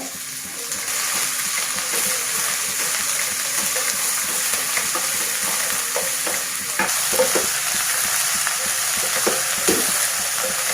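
Chopped onions and green chillies sautéing in a non-stick pan, a steady close sizzle with occasional stirring scrapes, continuous and unaccompanied by talk.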